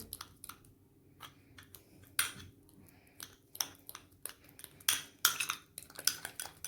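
Ripe banana being mashed in a bowl, giving a run of short clinking, scraping taps of utensil against dish, irregular and fairly close, with no talking.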